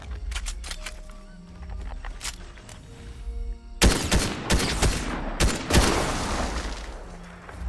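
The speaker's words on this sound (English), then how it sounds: "Where's he shooting from?" Gunfire in the Fortnite video game comes in sharp, loud bursts of rapid shots, heaviest in the second half. Busy game effects sit between the volleys.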